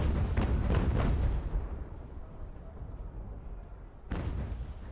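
Artillery fire in the video game Ultimate General: Revolution, a set of heavy booming blasts in quick succession, then a low rumbling lull and another deep boom near the end.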